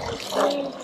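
Water splashes and sloshes briefly in a farm yard, a soft wet wash up close for under a second, ending in a sharper splash.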